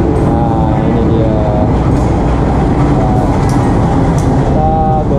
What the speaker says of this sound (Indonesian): Jadi ini kereta apinya